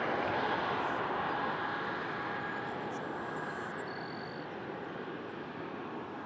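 A jet taxis and lifts off at Toronto Pearson, a steady, moderately distant engine rumble that eases gradually as it continues.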